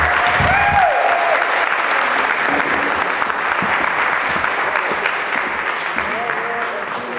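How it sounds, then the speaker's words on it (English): Sustained audience applause fills a community hall at a 100th birthday party held at a YMCA, loud and steady from start to finish, with a brief whistle-like tone and faint voices near the beginning. "Give her a round of applause."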